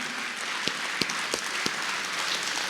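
Steady audience applause at a Hindi kavi sammelan poetry show, a dense wash of clapping with a few sharper individual claps standing out, moderately loud and without voices.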